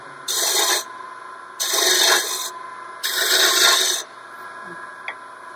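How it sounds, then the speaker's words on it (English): A single roughing gouge cuts dry cherry wood on a lathe in three steady rasping passes, each about a second long with short pauses between, heard up close with no talking. "This is cherry. And I'm using a single roughing gouge."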